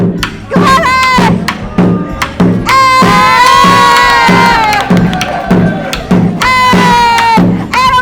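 A classroom of students at an American school cheers and shouts loudly for their teacher: a dense, sustained roar of children's voices with rising whoops and repeated calls of hey.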